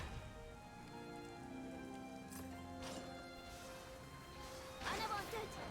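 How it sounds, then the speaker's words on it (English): Pouring rain in the video game Fuga: Melodies of Steel, with villages burning in a war scene. A steady, dense patter sits under sustained game music tones. "It's pouring rain."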